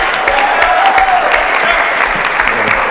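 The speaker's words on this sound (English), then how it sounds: "How about a nice warm round of applause?" A warm round of audience applause at a university startup elevator pitch competition, dense steady clapping from a sizable crowd that carries evenly for the whole stretch without a voice over it.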